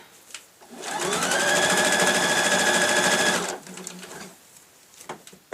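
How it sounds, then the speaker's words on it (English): A sewing machine stitches around the top edge of a lined tote bag in one steady, close run of about two and a half seconds. Quiet handling noises come before and after it. "I'm just sewing all the way around to neaten the top of it"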